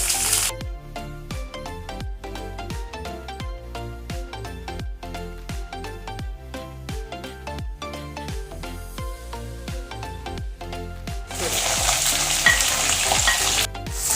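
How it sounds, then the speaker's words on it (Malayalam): Beef sautéing in a pan with coconut powder and curry leaves, a continuous close sizzle and fry broken by regular rhythmic scrapes of a stirring spoon, growing louder and hissier near the end. "നന്നായിട്ട് വഴറ്റിയെടുക്കാം"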